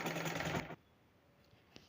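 Sewing machine stitching an envelope pillow cover runs in a fast steady whir for under a second, then stops abruptly, leaving quiet room tone with a faint click.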